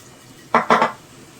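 A utensil clatters twice against a pan, two quick close scrapes and knocks, as mixed green vegetables and potato are stirred and sautéed with spices; no one speaks.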